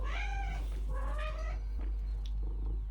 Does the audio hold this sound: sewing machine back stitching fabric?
no